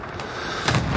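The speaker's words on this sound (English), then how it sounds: "I put cluster strike down." Cluster strike blasts in a Call of Duty-style multiplayer match, a loud burst of booming explosions rising near the end of a brief, noisy moment.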